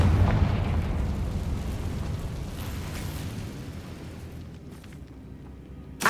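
A Confringo spell explodes in the video game Hogwarts Legacy, opening with a loud booming blast that rumbles and decays over several seconds before a small sharp pop at the end.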